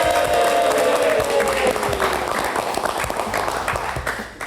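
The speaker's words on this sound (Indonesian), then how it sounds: "Tepuk tangannya dulu dong" A crowd of workers at a rally applauds after a presidential speech, loud, dense clapping with some cheering, fading slightly as it continues.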